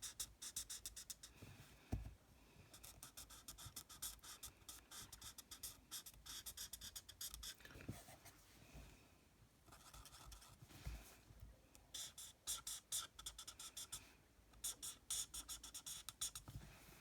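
Quiet, continuous scratchy strokes come from colouring in a handmade card in light grey, with brief pauses and quicker bursts of strokes close by.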